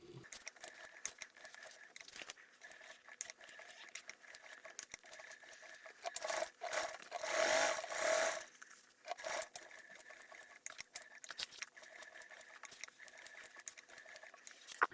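A hand-cranked sewing machine stitches an insulated work and lunch tote, giving a steady close run of soft ticking, patter and fabric rustle, with a brief louder burst near the middle.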